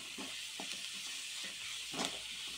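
Onions frying in a pan with salt are stirred, a steady sizzling hiss running throughout with several soft scraping strokes from the spoon, fairly quiet and close.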